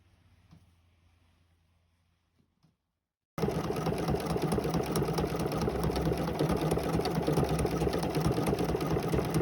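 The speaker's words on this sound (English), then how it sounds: "I pieced the thing on the B735 Bernina" After a few near-silent seconds, a Bernina B735 sewing machine starts up and runs steadily, piecing a quilt with a loud, even, rapid whir that continues to the end.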